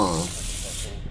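Sink taps gush and splash in a short, steady rush of running water inside the video game Stasis, with a brief voice heard at the start.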